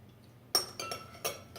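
Metal spoon clinks against a glass or ceramic bowl while Worcestershire sauce is stirred into a seasoning rub for steaks, three or four distinct close strikes in quick succession.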